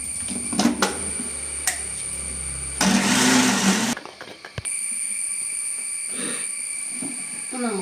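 An electric mixer grinder whirs loudly for about a second while grinding cooked rice with water for a batter, followed by kitchen noise and a steady background hum.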